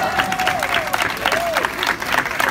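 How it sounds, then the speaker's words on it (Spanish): An audience at a Dallas, Texas tribute concert for Mexican women rock and blues musicians gives continuous, full applause, bright and dense, with a faint sung or shouted tone drifting through the clapping. "Aplauso para ellas."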